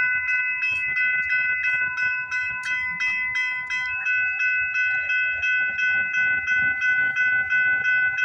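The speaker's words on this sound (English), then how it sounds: "we got a CPKC eastbound train coming down the line." A CPKC eastbound freight train rolls past at midnight at the Bronte Street crossing on the Galt Subdivision, with a steady rhythmic clatter of wheels, while sustained ringing tones sound throughout.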